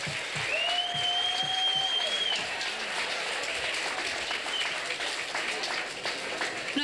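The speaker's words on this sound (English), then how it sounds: "So will you give him, please, a big round of applause?" Audience applause in a ballroom during a dance event, a broad continuous clapping wash at moderate level, with a thin whistle-like tone early on and faint voices in the crowd.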